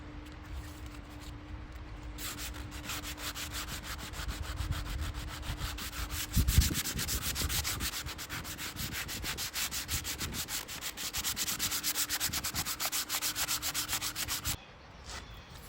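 Steady scratchy rubbing of hand-sanding wood filler, continuous strokes at close range, with no talking.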